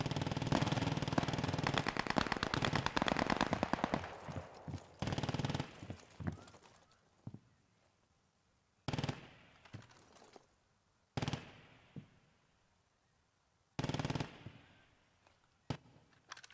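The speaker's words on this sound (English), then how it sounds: "And there's a machine gun." Rapid bursts of machine gun fire in a video game military drill, loud and dense at first, then breaking into short separated volleys with quiet gaps between them.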